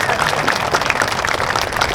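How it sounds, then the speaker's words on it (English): An outdoor audience at a Civil War commemoration opening ceremony claps for a battalion band, a short, busy patter of many hands at moderate distance, briefly and steadily. "Can we give them a big round of applause?"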